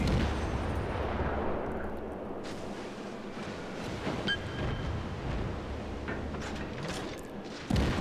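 Naval battle in World of Warships: heavy warship gunfire rumbles as a dense, continuous low roar with muffled booms and a few sharper reports scattered through, no talking.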